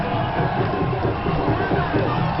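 A large crowd cheers for President Jammeh at his 2011 presidential election nomination, a dense, steady roar of shouting and whistling voices with no breaks, loud and close, the high end sounding cut off.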